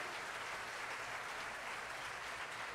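Church congregation applauding during a worship celebration, a soft, steady patter of many hands heard from a distance, continuous and even for the whole stretch.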